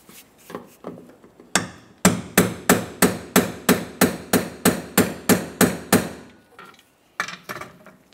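The fuel pump lock ring on a Dodge Ram 2500 is tightened with about a dozen evenly spaced sharp metallic strikes, loud and close, framed by quieter scattered handling noises before and after.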